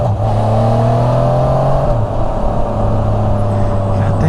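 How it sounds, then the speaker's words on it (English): A motorcycle engine hums steadily at close range while the rider rides along and blips the throttle during a gear shift, so the pitch drops and rises partway through. "every once in a while I blip the throttle when I shift these things"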